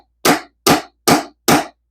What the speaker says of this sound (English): Beat on that hammer pommel a little bit.